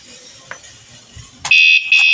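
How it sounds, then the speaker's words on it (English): A smoke or fire alarm suddenly blares out loud and shrill, sounding in two piercing bursts after a brief pause, following a stretch of quiet background noise. "At least the alarm works"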